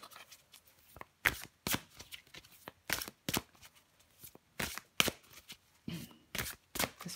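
Tarot cards are shuffled in repeated quick riffles before a card is drawn, sharp papery bursts arriving in an uneven rhythm, close and fairly quiet, with no speech.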